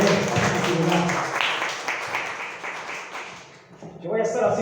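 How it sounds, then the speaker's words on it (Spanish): A church congregation gives loud, sustained applause that fades toward the end before a voice returns. "¿Por qué no les regalamos un fuerte aplauso?"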